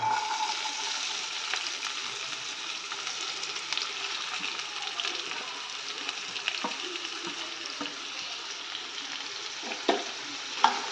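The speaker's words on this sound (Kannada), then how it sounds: "ಇದು ಬಿಸಿಯಾದ ನಂತರ ಈರುಳ್ಳಿ ಹಾಕೊಳ್ಳೋಣ" Onions sizzle steadily in hot oil for a capsicum and potato curry, a continuous bright frying hiss with occasional stirring clicks and a couple of louder pops near the end, no voices.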